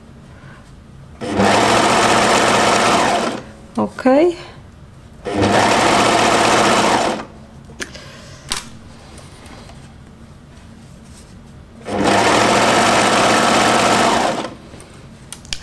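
A sewing machine stitching a knit jumpsuit runs in three bursts of steady whirring, each a couple of seconds long, separated by quiet pauses with small handling clicks and one brief spoken word.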